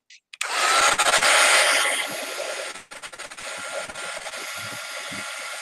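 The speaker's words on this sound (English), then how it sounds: "And I'm going to heat gun that." A heat gun blows steadily to dry paper on an altered book craft project, a loud broadband whoosh that starts abruptly, softens slightly after a couple of seconds and keeps running alone without talk.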